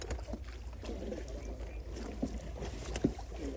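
Oars row a wooden boat through swamp forest water, giving soft irregular splashes and knocks with a couple of sharper strokes near the end over steady low rumble and breeze, heard close and alone.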